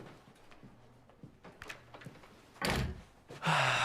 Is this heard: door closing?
yes